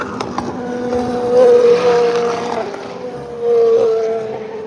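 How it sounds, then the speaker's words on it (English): Race cars passing trackside at Le Mans at night, engines droning and swelling as cars go by, with two louder surges of a high engine whine, heard from close to the circuit. "some of these cars are so much louder and so much faster than the others"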